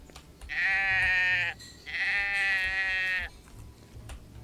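Two loud, close sheep bleats, each about a second long with a short gap between them, come from the video game Drova over faint background ambience.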